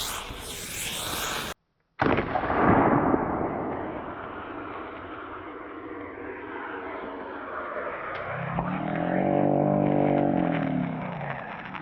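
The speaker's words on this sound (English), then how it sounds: "So I'm gonna try one out of the shotgun first, see what it does, and then we'll try the handgun." A single loud shotgun blast launches a flare round at a watermelon, followed by a long hissing, roaring burn and a later sharp crack as the flare keeps burning nearby.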